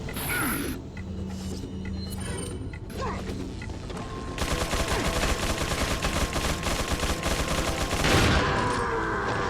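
Rapid gunfire from the 2005 Resident Evil 4 in a military base area, scattered shots and clanks at first, then a dense, sustained burst of automatic fire with crashing impacts, loud and continuous.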